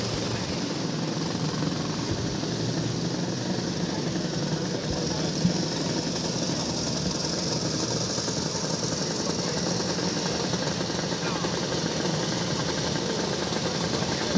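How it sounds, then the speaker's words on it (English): Steady engine drone from a German-built Triumph TWN vintage motorcycle setting off at a vintage motorcycle club run, a continuous even hum at moderate distance with no distinct revving. "Number 39, the TWN, that's a German-built Triumph from Richard Ray."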